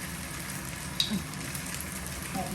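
Chicken pad thai being stir-fried in a pan with sweet sauce, a steady close sizzle with a brief clatter of the spatula; someone talks softly in the background.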